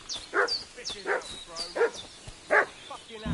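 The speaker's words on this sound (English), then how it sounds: "What's that dog making such a fuss about?" A dog in the medieval game Kingdom Come barks and whimpers in short yelping bursts, about four sharp calls spaced through the moment, fairly close and clear with no talk over them.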